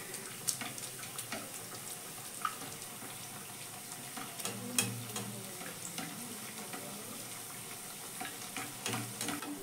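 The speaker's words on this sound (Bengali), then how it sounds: "যখন এইভাবে ভেজে উপরের দিকে ভেসে উঠবে তখন কিন্তু ওপর থেকে এইভাবে তেল ছিটিয়ে দিতে হবে" Potato snack frying in hot oil, a dense, steady crackling sizzle with scattered pops and occasional splashes as oil is spooned over the top.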